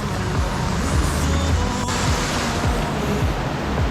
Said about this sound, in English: is coming from the creek, which is 30 metres across, and she is well and truly overflowed